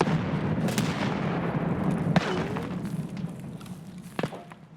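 In the video game Escape From Tarkov, a thrown grenade goes off with faint, distant thumps and a few scattered sharp cracks of gunfire over a low background rumble.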